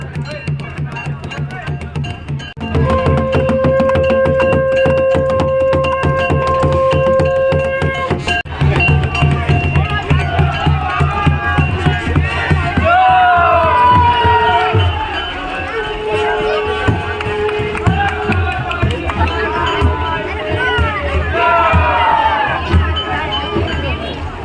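A large crowd of devotees gathers at a saint's funeral procession and samadhi in Sanglia, with loud continuous hubbub, shouting and chanting. A steady sustained tone, like a horn or conch, runs through the opening seconds.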